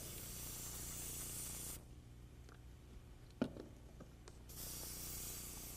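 An airbrush sprays out gray paint while being rinsed: a steady close hiss stops for about three seconds, broken by a single sharp click, then resumes.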